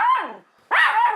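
An aggressive biting dog indoors gives two harsh, loud barks close by, with a brief pause between them and a growly edge to the second.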